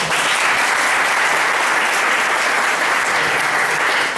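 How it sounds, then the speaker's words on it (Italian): Steady, loud applause from the audience at the inauguration of a Juventus supporters' club in Grumo Appula, honouring an honorary member; dense clapping runs unbroken throughout with no voices. "Un applauso."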